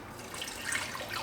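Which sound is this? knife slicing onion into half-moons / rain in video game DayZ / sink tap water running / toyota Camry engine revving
sink tap water running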